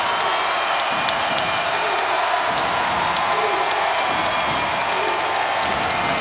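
Arena crowd at a women's college basketball game between Louisville and NC State roars and cheers steadily after an NC State jump shot, a dense sustained wash of voices with scattered whoops and claps throughout.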